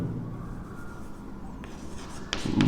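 Faint scratch of a marker writing on a board during a class 10 probability lesson, soft intermittent strokes followed by a louder tap and rustle near the end.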